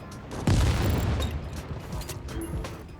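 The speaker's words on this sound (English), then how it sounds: "hold R to switch to your tandem round and fire" A tandem round fired at a ground vehicle in the video game World War 3 lands as a loud, booming impact with rattling gunfire and mechanical clatter continuing around it in a busy battlefield mix.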